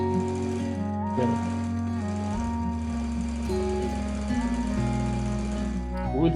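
Old domestic sewing machine stitching a decorative pattern at reduced stitch length, a loud steady mechanical whirr with rhythmic clatter and shifting tone as the pattern changes, close and continuous.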